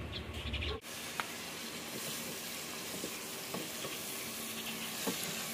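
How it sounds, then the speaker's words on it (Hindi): Onions sizzle steadily in hot ghee, a constant crackling fry with a few light clinks, after a brief softer moment at the start. "शबाना प्याज और सिर्फ घी को तड़का लगा रही है"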